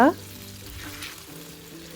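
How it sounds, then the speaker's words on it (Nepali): Frozen momo cooking in a pan in a little warm water, giving a continuous close sizzle and bubbling, with a short sharp sound at the very start. "र यसरी बिस्तारै बिस्तारै फ्रोजन मोमो पनि पाक्दैछ।"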